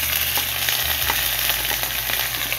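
Garlic and onion sizzle steadily in a hot pan as cabbage is added, a dense, continuous frying hiss with faint stirring clicks and no voices.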